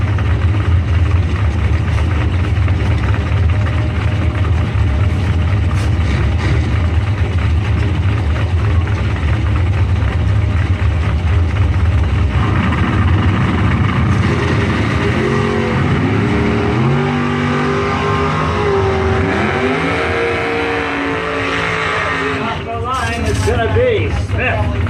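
A 1993 GMC Sonoma pickup idles loudly at a drag strip, then its engine revs and rises in pitch as it launches down the track, with an announcer talking over the roar.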